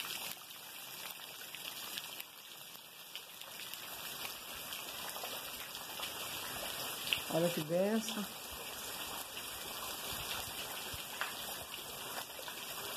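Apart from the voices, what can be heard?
rain falling on plantations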